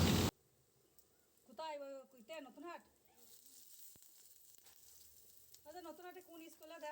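Coated ingredients for a village recipe sizzle and fry in a wok, a steady close hiss running beneath intermittent talking voices.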